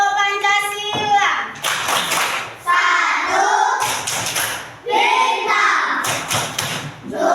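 Schoolchildren in an Indonesian classroom chant and clap the Pancasila clap rhythm, bursts of clapping alternating with group voices calling out numbers and words, fairly close and loud.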